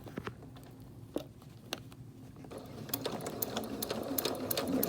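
A sewing machine stitches along the edge of a fabric face mask, quiet and close, with clicks and soft handling noises and the running motor growing slightly toward the end.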